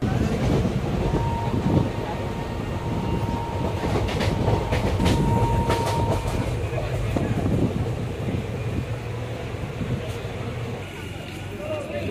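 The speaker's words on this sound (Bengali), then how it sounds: "আমরা এখন লোকাল ট্রেন ধরে চলে যাব দুর্গাপুর শহরে" A local train in West Bengal rolls along toward Durgapur with a continuous rumble, rattling clatter and scattered clicks. A brief tone sounds early on, and indistinct voices murmur underneath.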